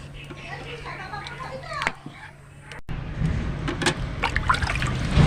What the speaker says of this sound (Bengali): আরও এক বাটি জল আমি দিয়ে দিচ্ছি